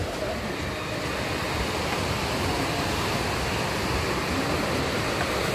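A river running high and murky after rain at a popular picnic spot rushes in a steady, dense roar, continuous and close throughout with no talk over it.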